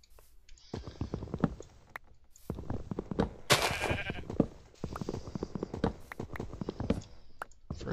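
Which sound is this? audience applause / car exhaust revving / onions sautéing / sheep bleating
sheep bleating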